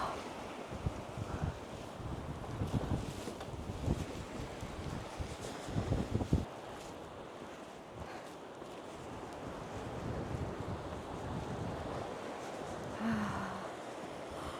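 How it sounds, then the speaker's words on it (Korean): Loud ocean waves crashing along the rocky coast of Yeongdeok's Blue Road trail, a continuous roar of surf mixed with wind buffeting the microphone, with a few heavier surges. "파도 소리가 천둥 소리 같습니다"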